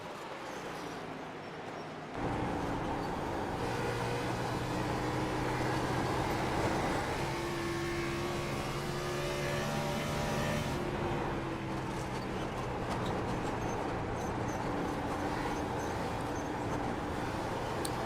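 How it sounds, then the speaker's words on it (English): Race car at Dover with the driver feathering the throttle, engine note rising sharply after a quiet start into a sustained, wavering roar with shifting tonal pitch, steady and moderately loud throughout. "You hear Zerke feathering that throttle, trying to carry as much momentum as he can."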